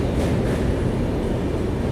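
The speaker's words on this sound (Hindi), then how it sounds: "अपनी ट्रेन जो है काशी रेल रोड ब्रिज में इंटर कर रही है" The Shramjeevi Express passenger train, number 12391 running Rajgir to New Delhi, crosses the Kashi rail-road bridge with a loud, steady, continuous rumble and rattle of wheels and carriages, close by and with no talk.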